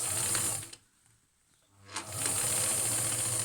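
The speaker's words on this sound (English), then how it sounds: "a top stitch on the right side of the material" A sewing machine runs close up, topstitching a seam on fabric for a shaped mask, with a steady mechanical whir that stops briefly in the middle and then resumes.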